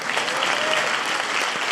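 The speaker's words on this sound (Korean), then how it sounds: "주님께 큰 박수 함성으로 영광 올려드리세요." A church congregation claps and cheers loudly during a worship service, a dense continuous burst of applause with crowd noise and no break.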